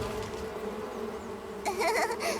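Cartoon bees buzz in a steady, continuous drone, joined near the end by a short burst of louder, wavering tones.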